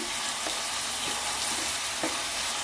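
Sliced onions crackle and sizzle hard in a hot pan, a dense, even hiss close by, punctuated by a few spatula scrapes as they're stirred, without any speech.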